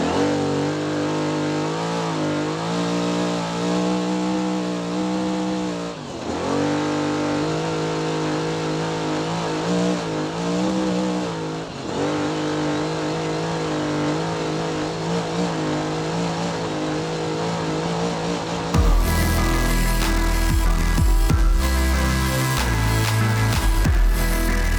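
A trophy truck engine roars steadily at racing speed on the Don River Dash course, loud and close with rising and falling revs, shifting to a harsher, different engine tone near the end.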